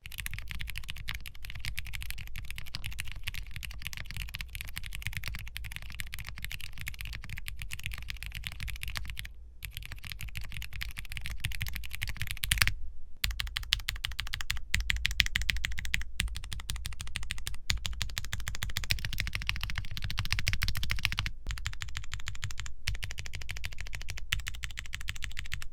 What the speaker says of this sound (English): this is how my Nixies sound